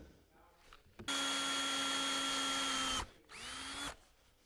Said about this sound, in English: we're going to start getting our pilot holes in